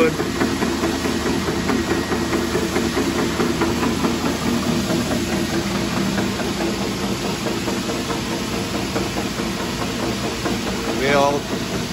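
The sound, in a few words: Erco 35C flanger machine motor running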